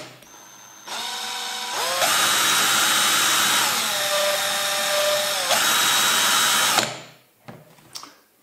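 An Einhell 18V cordless impact drill whirs up, then shifts into second gear with a higher-pitched whine and runs steadily for several seconds before spinning down, followed by a few clicks.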